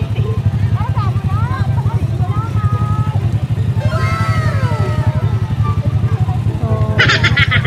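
Motorcycle engine running steadily with a low, throbbing rumble throughout, heard up close while people talk over it.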